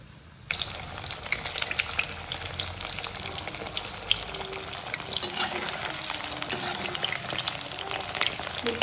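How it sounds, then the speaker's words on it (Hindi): Potatoes frying in oil in a kadhai for dum aloo. A dense, steady sizzle starts abruptly and carries on close and continuous, with faint stirring and no voices. "जब तक ये तेल छोड़ेगा तब तक हम अपने आलू को फ्राई कर लेंगे।"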